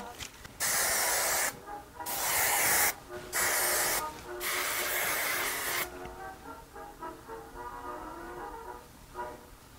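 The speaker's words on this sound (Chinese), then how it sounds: "那我们就可以用这个定型喷雾，最后再定一下型。" Hair setting spray hisses onto freshly styled vintage curls in several sharp bursts followed by one longer spray, close and loud, and then it fades to a quiet background.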